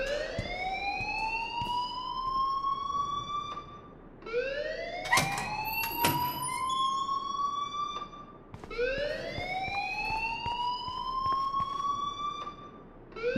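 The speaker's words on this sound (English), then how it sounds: "please turn off that alarm since that's your job" An alarm in the video game Life Is Strange wails in repeating rising electronic sweeps, three cycles of a siren-like tone, with a few sharp clicks partway through.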